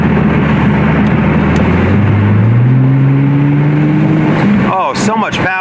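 Nissan GT-R R35 with about 100,000 miles revving hard, a loud sustained engine roar with rising pitch, followed by sharp throttle blips near the end.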